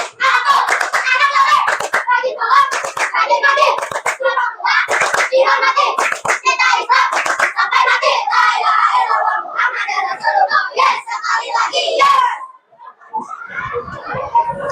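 Schoolchildren in a classroom perform a rhythmic clapping chant, tepuk anak soleh, loud close hand claps in patterned bursts interleaved with chanted voices, ending in a short pause and scattered sounds.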